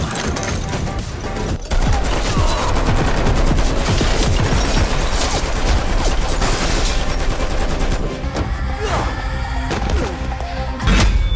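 Dense, relentless gunfire from the Kaithi gun in a violent film action scene, loud continuous bursts layered with crashes and impacts under a thick score, with a brief drop before the barrage resumes.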